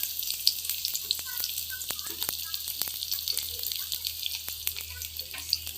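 Onions sizzle and crackle steadily in hot oil for a meat-stuffed pointed gourd dish, a close, continuous hiss dotted with sharp pops and small clicks of stirring, with no one talking.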